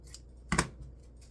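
Scissors snip once through pink felt while cutting bunny ears for a grapevine wreath, a single crisp close cut over near silence.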